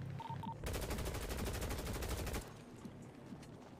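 Rapid automatic gunfire rattles in a sustained burst of about two seconds, then stops, leaving faint background noise; video game gunshots.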